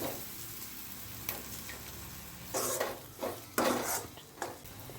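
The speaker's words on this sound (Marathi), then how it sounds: "यात आता आपण अंडी टाकूया।" Eggs cracked into a hot pan of fried rice mixture with kitchen king masala and stirred, giving a steady soft sizzle with a few louder scraping bursts of a spoon against the pan, no talking.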